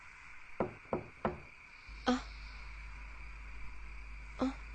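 Knocking on a door in an action movie: three quick raps, then two more spaced knocks over a steady low hum, fairly close with no talk.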